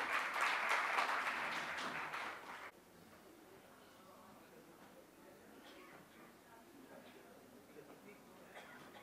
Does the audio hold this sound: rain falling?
no